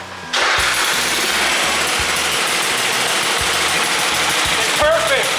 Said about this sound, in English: We're gonna put this on the crankshaft and spin it and see how true it looks.